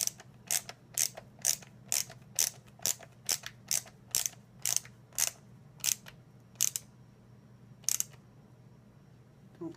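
A ratcheting screwdriver tightens screws into a Blythe doll body, giving a steady series of about fifteen crisp, close clicks at regular intervals over a low background hum, with no talking.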